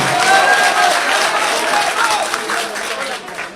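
A crowd at a political party ceremony inaugurating a new headquarters applauds a local party leader, a loud, continuous wash of clapping with voices mixed in, fairly close and steady.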